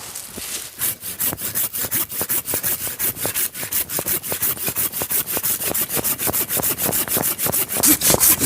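A hand saw rasps through a young fruit tree trunk in fast, steady back-and-forth strokes, loud and close, continuing without pause.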